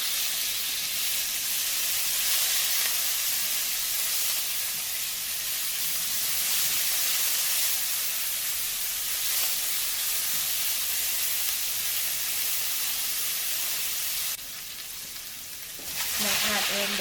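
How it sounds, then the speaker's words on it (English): Sliced pimentos and onions sauté in a hot pan with a steady, close crackling sizzle that continues throughout, dipping briefly near the end as the food is stirred. "Saute until translucent."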